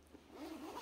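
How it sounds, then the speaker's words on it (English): A single short zip from the zipper pocket of a leather Dooney tote bag, quiet and close, lasting under a second. "we have the two open pockets, the zipper pockets."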